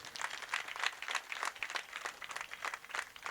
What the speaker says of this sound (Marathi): एकदा टाळ्या वाजवा फक्त.